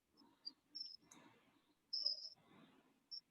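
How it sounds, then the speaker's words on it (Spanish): A cricket chirps in a quiet classroom, short sharp high trills repeating irregularly, fairly faint, with soft background murmur between chirps. "El grillo suena nomás"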